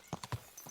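Horse hooves clip-clop on the ground in Kingdom Come Deliverance 2, three quick soft beats close by at a walking pace, quiet in the mix.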